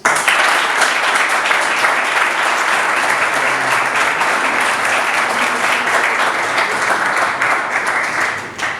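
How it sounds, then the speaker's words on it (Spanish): A large audience at the signing ceremony of Colombia's tax reform breaks into loud, sustained applause, dense and steady throughout before easing slightly at the end. "Un fuerte aplauso."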